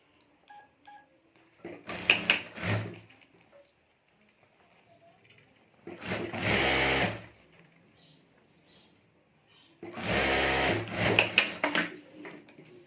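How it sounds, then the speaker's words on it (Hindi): A sewing machine stitches a fabric bag's lining down over the zip, running in three separate bursts of a second or so each, fairly close and loud, with quiet pauses between. "तो यहाँ ऊपर मैं सिलाई कर देता हूँ।"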